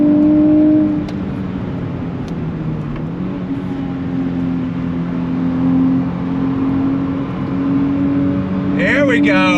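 A 2023 Nissan Z Performance pulls hard on throttle, its engine note droning and rising steadily from inside the cabin, loud and continuous, with a voice heard over it.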